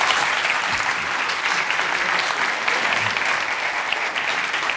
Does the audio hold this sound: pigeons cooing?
no